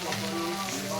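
Vegetables stir-fried in a pan with turmeric and salt, giving a steady close sizzle with soft scraping, and a sharper clatter right at the end.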